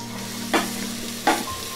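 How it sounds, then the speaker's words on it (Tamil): Carrots and beans stir-frying in a pan for vegetable ghee rice: a continuous close sizzle with two sharp stirring scrapes, no voices. "இப்போ கேரட் அண்ட் பீன்ஸ் ஆட் பண்ணிடலாம்."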